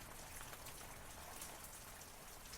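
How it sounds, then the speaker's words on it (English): Rain falling outside, a steady dense patter of drops on surfaces, even and continuous with no voices. "it's a little cold out here in the rain"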